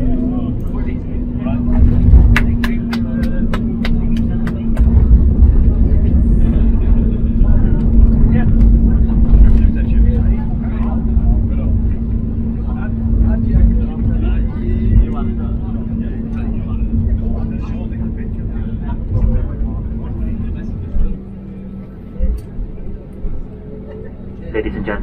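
Cabin of an EasyJet Airbus A320neo on landing approach into Newquay: a steady loud engine and airflow drone with a sustained low hum that drops slightly near the end, while people talk over it.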